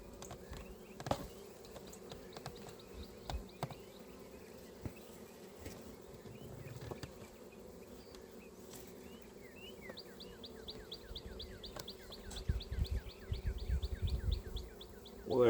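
Honey bees around a hive drone in a steady, close buzz, with occasional knocks and handling thumps, while faint birdsong chirps repeat in the background.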